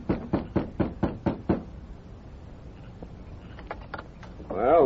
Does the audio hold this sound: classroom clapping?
no